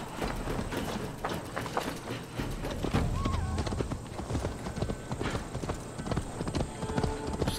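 A horse clip-clops at a steady gait in Assassin's Creed Valhalla, dense rhythmic hoofbeats running throughout with a brief whinny partway through, sitting among other game sounds.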